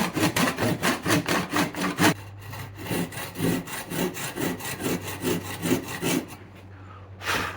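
A tenon hand sawn into 2x6 and 2x4 timber for an outdoor picnic bench, with close, rhythmic back-and-forth saw strokes in a steady run and a brief pause partway through.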